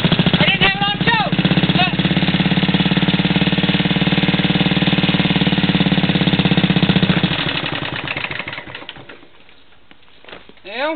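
An old Simplicity walk-behind tractor engine runs loudly and close after a cold start without choke, then falters and dies away toward the end, leaving near quiet.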